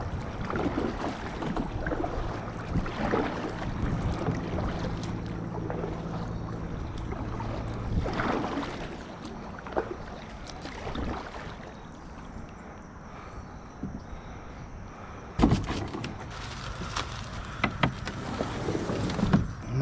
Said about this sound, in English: About to paddle across to there.